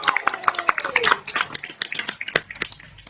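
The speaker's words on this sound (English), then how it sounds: "I want y'all to applaud and scream and yell like your life depended on it" A comedy club audience claps and cheers with scattered, uneven claps and short shouts that rise and fall in quick bursts.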